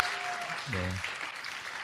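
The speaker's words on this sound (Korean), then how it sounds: "네, 박수." A church congregation applauds during a worship service, a steady wash of clapping that runs throughout while someone briefly speaks over it.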